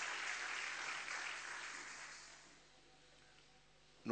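A church congregation applauding at a French-language service, a steady broad wash of clapping that slowly fades, then a sharp noise at the very end.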